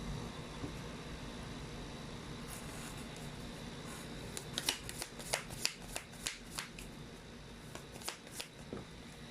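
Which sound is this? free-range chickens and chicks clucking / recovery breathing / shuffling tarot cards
shuffling tarot cards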